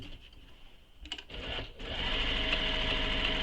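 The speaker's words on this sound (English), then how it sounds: "I'm just back stitching right where the cutoff is, so those box corner edges." A sewing machine stitches fabric close up, starting with a few short bursts and clunks before running into a steady, fast whirring hum while back stitching a bag's corner edges.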